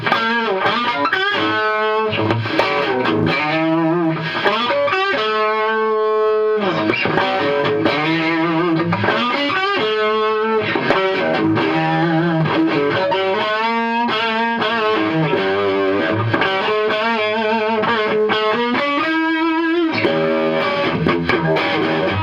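An electric guitar runs through a Gollmer Fat Dist distortion pedal, playing thick, fuzzy chords and riffs continuously, loud and close with no voices.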